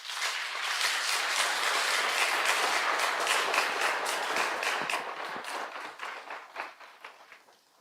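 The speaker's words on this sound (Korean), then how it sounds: "등단하실 때 큰 박수로 환영하시도록 하겠습니다" A church congregation applauds as Pastor Lee Dae-hee takes the stage, a dense, steady clapping that holds strong before gradually thinning and fading out at the end.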